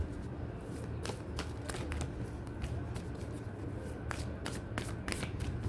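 A deck of oracle cards being shuffled by hand, giving repeated soft riffling and sharp snapping flicks over a steady low hum, close and quiet, with no speech.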